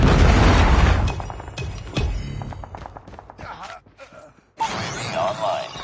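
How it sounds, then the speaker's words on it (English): A Predator missile strike in a shooter video game: loud, heavy booms and thuds roll out over a few seconds, break into scattered crackling debris, go nearly silent, then a fresh wave of dense rumble returns. "Predator missile inbound."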